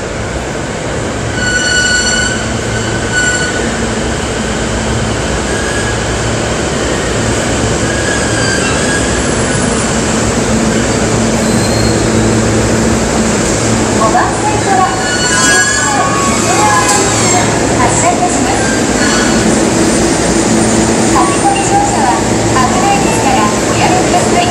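A Toei Shinjuku Line express subway train runs between Shinjuku and Bakuro-Yokoyama, with a loud, continuous rumble of wheels and carriage noise and occasional thin wheel squeal throughout.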